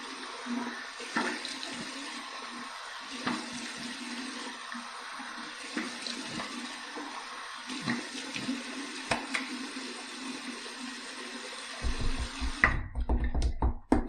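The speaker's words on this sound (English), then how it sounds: "Here's my cold water rinse to close my pores." Cold tap water running from a bathroom faucet as a face is rinsed after a razor shave, a steady moderate splash with intermittent spatters as hands move through the stream, louder gushing near the end.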